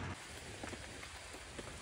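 Rain falls steadily at a summer campground, a faint, continuous hiss of drops on surfaces with occasional soft pattering accents.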